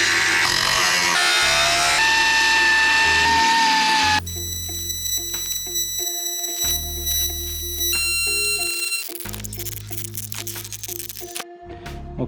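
A power tool cuts into the body panel of a 2024 RAM 2500 truck below the hinge, a loud grinding buzz for four seconds, followed by intermittent tonal whines and clatter from repeated short cutting bursts.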